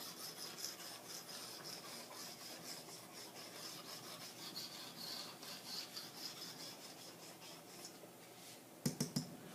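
Board being erased during a chemistry lesson on limiting reactants, a steady rubbing scrape running throughout with rhythmic strokes, close and fairly quiet, ending with a few sharp taps.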